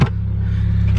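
A car engine idling while warming up, a steady low rumble with a regular pulsing throb, close and continuous, following a brief knock at the start.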